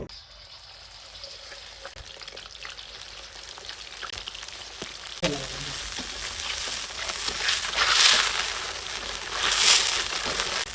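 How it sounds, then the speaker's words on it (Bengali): Shrimp and squid drop into hot soybean oil in a wok; a quiet hiss midway jumps to a loud, crackling sizzle that swells in bursts toward the end, with no talk. "তারপর আমি চিংড়ি মাছ এবং কুইটটা ছেড়ে দিব"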